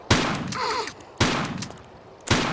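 Three booming musket shots from the Tomb Raider fan level King Arthur Project ring out about a second apart, each a hard crack with a rolling tail, one followed by a brief metallic reload clatter.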